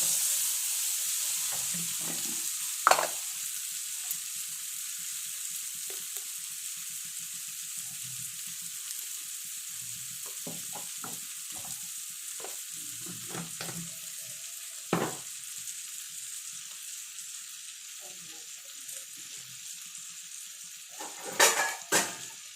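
Curry cooking in a pan on the stove sizzles with a steady high hiss, punctuated by occasional clinks and stirring scrapes; no one speaks.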